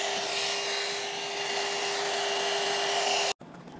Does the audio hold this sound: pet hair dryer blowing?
yes